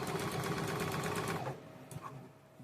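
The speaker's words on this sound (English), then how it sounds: "I'm going to sew straight on that stitching line." A sewing machine runs along a quilt block's stitching line in one steady, close, whirring burst of rapid stitches, then stops, leaving faint handling noise.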